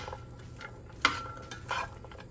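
Frozen corn sizzles softly in oil in a skillet, with a couple of sharp scraping stirs and utensil clinks standing out against the quiet frying.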